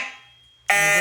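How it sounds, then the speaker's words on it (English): A fire alarm system goes into a zone 3 alarm: after a fading tone and a moment of near silence, a loud, bright, harsh alarm sound bursts on abruptly and holds steady. "As you can see, we got a zone 3 alarm."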